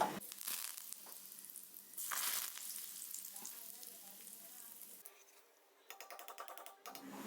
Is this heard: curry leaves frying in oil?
yes